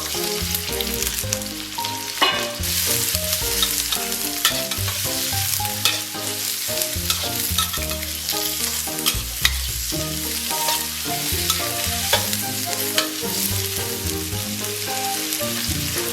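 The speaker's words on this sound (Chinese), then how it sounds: "锅里边留点底油，咱们把洋葱和蒜给它爆香。" Onion and garlic sizzle loudly in hot oil in a wok, a dense, continuous frying hiss with occasional scrapes and clinks from stirring, heard close up with no voices.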